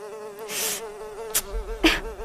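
Mosquitoes whine steadily and close by around a woman sleeping on the floor indoors, a wavering high buzz running through the whole moment with a couple of brief louder rustles.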